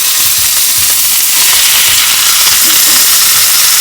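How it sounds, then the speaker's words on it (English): Coconut oil sizzling loudly in a pot for a Jamaican ackee and saltfish dish, a steady, close frying hiss with faint clinks of stirring underneath. "I'm going to add just a little bit more coconut oil in here"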